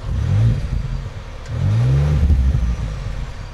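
A turbocharged 3.5-liter EcoBoost V6 in a 2015 Lincoln Navigator with four-wheel drive and six-speed gearbox pulls hard in two rising surges, the engine note climbing each time under a close, steady road rumble without voices.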